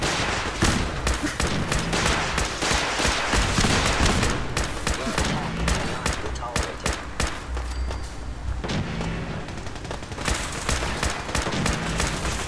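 Enemies in Fallout 4 keep up dense, crackling bursts of gunfire at the player with scattered booms, loud and continuous throughout, and someone speaks now and then.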